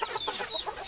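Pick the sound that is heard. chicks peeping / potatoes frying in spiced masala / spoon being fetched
chicks peeping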